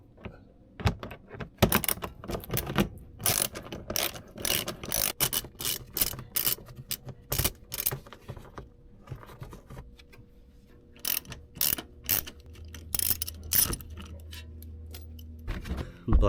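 A ratchet wrench clicks in quick bursts of metallic ratcheting while loosening three 8mm bolts on a BMW G20 skid plate, the clicks starting and stopping with short pauses between.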